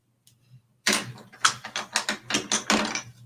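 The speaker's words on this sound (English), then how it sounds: "we also use the pencil coloring to make that texture" Colored pencil scratching across paper in quick rhythmic strokes, a run of about ten close, crisp scrapes after a short quiet start.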